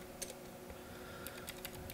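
Bursts of computer keyboard typing while a command is entered for a Windows 10 exploit, a quick cluster of keystrokes early, then a faster run of clicks near the end, close and fairly quiet over a steady hum.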